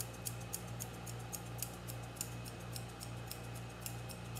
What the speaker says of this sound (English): now I'm going to do my thinning shears on this side